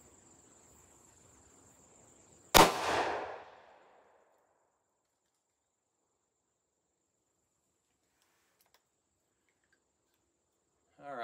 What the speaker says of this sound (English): I'm going to go ahead and shoot one each in the other two revolvers.